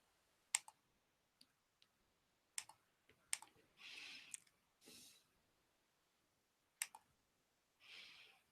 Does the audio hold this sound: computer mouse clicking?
yes